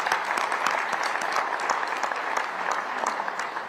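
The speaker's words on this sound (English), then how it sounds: "I want to give them a round of applause as well, too." Steady applause from a crowd at a groundbreaking ceremony for a new O'Hare Airport terminal, many hands clapping in a dense, even wash that holds at a moderate level throughout.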